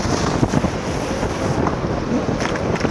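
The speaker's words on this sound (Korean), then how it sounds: "여기까지 파도가 넘친다는 거 아니에요?" Sea waves surging over the rocky shore of an islet off Jeju Island, a continuous loud roar and wash with gusty wind buffeting the microphone.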